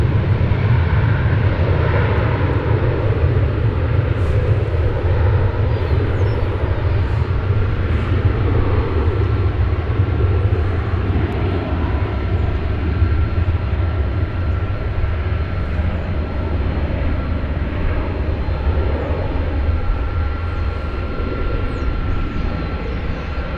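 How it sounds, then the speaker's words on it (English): An American Airlines Airbus A321 jet at Dallas Fort Worth airport gives a steady, loud engine roar and rumble that holds without a break, with no voices over it. "It's an Airbus A321."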